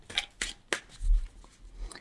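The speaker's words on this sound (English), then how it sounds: "let me shuffle these ones as well" Tarot cards being shuffled by hand in a quiet room, a few soft crisp riffling bursts in the first second followed by faint handling noise.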